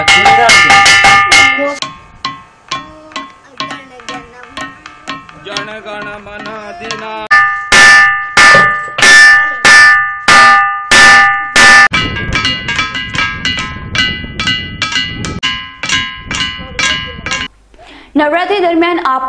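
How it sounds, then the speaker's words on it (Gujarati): Stones from the black hill near Khuniya in Amirgadh taluka are struck together, giving loud, bell-like metallic clangs in a long rhythmic series of close, ringing hits with short decaying tails. "આ ડુંગરના પથ્થરોને એકબીજા સાથે અથડાવવાથી ઝાલર જેવો મધુર રણકાર સંભળાય છે"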